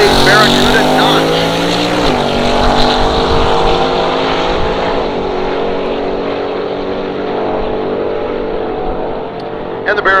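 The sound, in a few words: 1957 Chevy Bel Air and 1968 Barracuda drag racing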